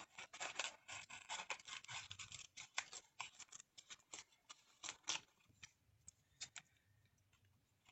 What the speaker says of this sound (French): Fait que je fais du déchirage de papier.